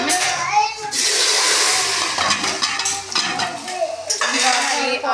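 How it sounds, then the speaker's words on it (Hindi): Browned garlic tempering poured into cooked daal for a daal chawal dish, with a loud burst of sizzling plus clattering pots and utensils, and a voice speaking intermittently around it. "अब हम ये तड़का डालेंगे दाल में।"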